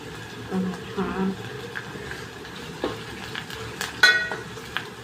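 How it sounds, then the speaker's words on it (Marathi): Ginger-garlic paste and curry leaves hit hot oil with browned onions, giving a soft steady sizzle with light stirring scrapes, a few louder crackles near the end, under a voice. "अद्रक लसण हे वाटून घेतलेले हे टाकूया लगेच कढीपत्ता पण टाकून घ्यायचंय"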